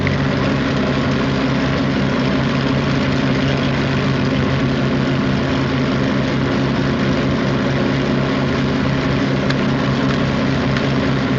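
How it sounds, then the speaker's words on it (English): Starboard propeller engine of a fixed-wing aircraft running in flight, a steady, loud droning hum with a low rumbling tone that holds constant throughout with no voices. "Starboard engine."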